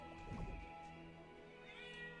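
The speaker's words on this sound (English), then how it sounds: "And that's a cat." A cat in the video game Honkai: Star Rail lets out a faint drawn-out meow, then a second higher mew, quiet against a soft ambient drone.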